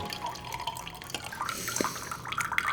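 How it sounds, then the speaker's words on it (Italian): Water poured during a drawing-tool test, heard as a steady close-up trickle with scattered drips and small splashes, with no voices. "abbiamo bisogno dell'acqua, la versiamo dalla Airap"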